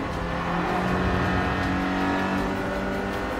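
A Nissan S13 Silvia engine in the racing game Gran Turismo Sport drones loud and steady at high revs, holding a sustained tone through a gear with no voice over it.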